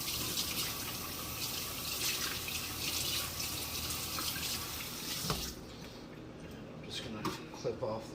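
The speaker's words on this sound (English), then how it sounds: "Okay, just give that a little rinse." Tap water runs steadily over a cleaned, gutted quail being rinsed in a sink, a close continuous splashing stream that stops after about five seconds, leaving a few drips and small handling noises.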